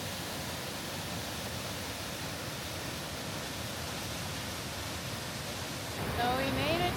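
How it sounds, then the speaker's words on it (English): A big waterfall roars with a dense, unbroken rush of falling water, loud and constant throughout, with faint wind bursts near the end. "So we made it to the big waterfall."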